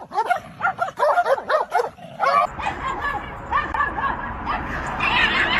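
Dog barking in a meme clip, a rapid series of loud, close yapping barks for about two seconds, then fading into muffled whimpers and yips under a noisy background.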